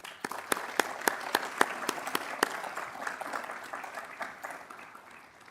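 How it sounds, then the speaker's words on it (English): An audience at a university agricultural college award ceremony claps for an award recipient, with crisp distinct claps near the start settling into a softer, gradually fading round of applause. "Let's give her one more round of applause."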